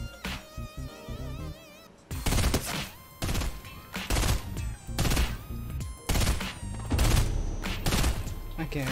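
Gunfire in Fortnite Battle Royale: a series of loud, punchy shots spaced roughly a second apart, each with a short ringing tail, over faint game ambience.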